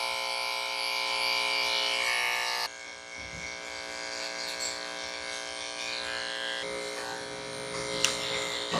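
An electric clipper grooms a Shih Tzu, buzzing steadily and close for the whole stretch, its pitch and loudness shifting as the blade moves and presses against the coat, with a brief click near the end.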